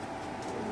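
Racing pigeons cooing at a pigeon farm, a soft, low, steady coo that continues through the short moment at a fairly faint level.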